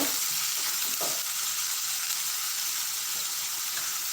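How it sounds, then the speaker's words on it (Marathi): Finely chopped onions fry in a pan for a rajma masala, giving a steady, close sizzle and crackle of hot oil with no break and no talk. "या कांदाला बरोबर व्यवस्थित भाजायचा जोपर्यंत तो लाल कलरमध्ये होत नाही"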